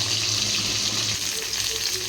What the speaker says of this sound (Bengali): মাছ ভেজে তুলে নিয়ে পটলগুলো ভাজা বসিয়ে দিয়েছি